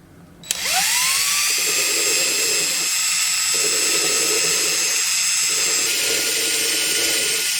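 Drill cutting a groove into a thrifted ceramic dish, a sudden high whining spin-up into a loud sustained shrill grind, with rougher scraping bursts as the bit bites into the ceramic.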